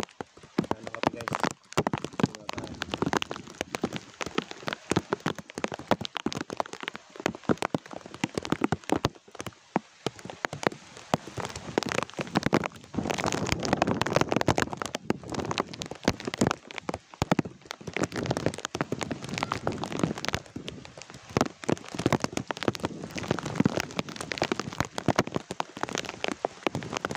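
Steady rain falling on a surface, a dense continuous patter running throughout, fairly loud and unbroken, with faint voices now and then beneath it.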